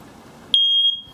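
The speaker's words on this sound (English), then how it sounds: "Okay, another smoke alarm. Let's try this one." A smoke alarm lets out one loud, piercing high-pitched beep lasting under half a second, between stretches of quiet room noise.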